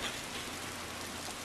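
Steady, dense rain in the Roblox game Bloxburg hisses evenly throughout with no break, and no one speaks over it.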